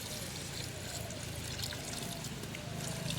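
Water pours slowly and steadily in a soft, continuous trickle during a New Year feast with friends, with a constant low background hum and no clear talk.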